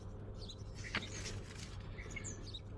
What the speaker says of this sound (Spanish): Estoy escuchando pájaros que desconozco y creo reconocer.